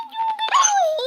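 A small dog whimpers close by, a short high whining cry that rises and then trails off, with no talk over it.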